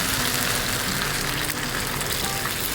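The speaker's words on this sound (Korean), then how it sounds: "적당히 탔으면 여기에 물을 넣어줍니다" Water poured into a hot pan of browned, slightly charred chicken for braised spicy chicken (jjimdak), giving a loud, steady, hissing sizzle that fills the whole stretch without pause.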